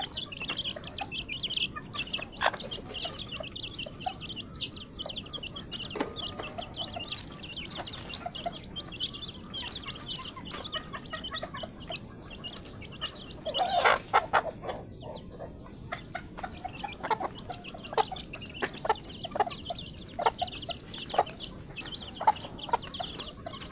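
Native chickens and chicks cluck and peep around feeding time in a backyard pen, scattered short calls and soft chirps over a quiet steady background with a high insect-like whine.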